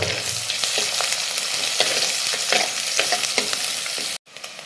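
Sliced onions sautéing in hot oil with fenugreek and curry leaves, a steady close sizzle with scattered crackles and stirring scrapes, cutting off briefly near the end.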